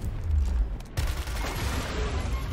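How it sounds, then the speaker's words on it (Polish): Gunfire crackles and booms in Gears Tactics amid steady background noise, with a single sharp shot standing out near the middle. "Jeden strzał"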